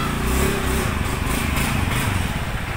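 A motorbike engine runs nearby with a low, pulsing rumble that holds fairly steady and loud for the whole stretch, suggesting the bike pulling up close.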